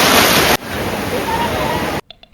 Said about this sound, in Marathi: मोठं ही लाट आली बघा मोठी